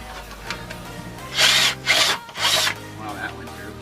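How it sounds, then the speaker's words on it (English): Power drill boring a hole under a Lexus LS400 in several short loud bursts, close by, with pauses between them and a brief voice at the start. "I'm gonna drill a hole now, hopefully."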